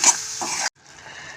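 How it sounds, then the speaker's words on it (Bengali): Spiced masala with a pinch of Kashmiri chili powder being stirred and sautéed in a pan for a soybean curry, a close scraping stir with sizzle that stops abruptly midway, leaving quieter background noise. "এবার আমি এটাকে ভালো করে কষিয়ে নেব।"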